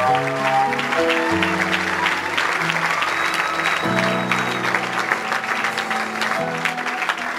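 A church congregation applauding to acclaim the Lord, sustained clapping from many hands, steady and fairly close, over sustained music tones.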